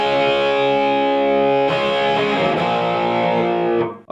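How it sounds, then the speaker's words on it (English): An electric guitar playing a distorted rhythm part through a 4x12 speaker cabinet, thick sustained chords that change once midway and then cut off abruptly near the end. "let's play the rhythm distortion, the main distortion"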